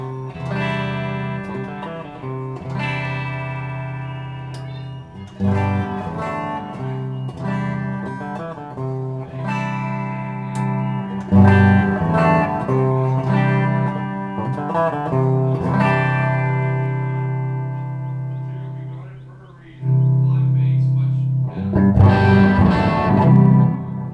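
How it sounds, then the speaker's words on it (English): Guitar amp run in soak mode with the gain turned all the way up, giving a Plexi-style breakup: loud, distorted chords and riffs played in phrases, with a short pause near the end before a final loud burst. "we're going to dime out the gain with it in soak mode at the very end of that pass"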